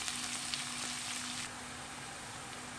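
Chopped onions frying in a pan for chicken angara, a steady close hiss of sizzling oil with a faint hum underneath, dropping slightly in loudness partway through.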